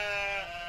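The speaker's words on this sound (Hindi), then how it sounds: "ये नुमान भाई का बकरा है।" A goat owned by Numan bleats once in a short, loud, wavering cry with a clear tonal quality, heard alone without speech in a cartoon setting.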